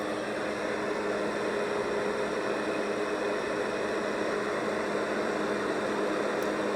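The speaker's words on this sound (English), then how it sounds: "you're listening to the box fan" Box fan setting on a Big Red Rooster white noise sound machine, a steady, even broadband whoosh with a faint low hum that holds unchanged throughout at close range with no voices.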